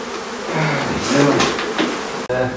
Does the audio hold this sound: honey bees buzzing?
yes